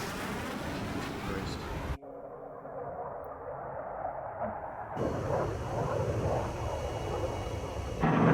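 An XO2S strike fighter jet approaching in the video game Ace Combat 7, a roaring aircraft engine rumble that cuts out abruptly and returns as a louder, fuller roar, with speech mixed in.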